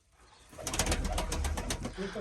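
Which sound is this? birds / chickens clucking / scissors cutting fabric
birds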